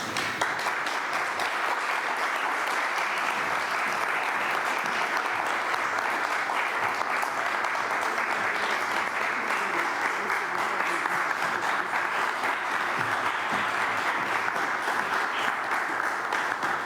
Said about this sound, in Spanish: Lo haremos a través del aplauso.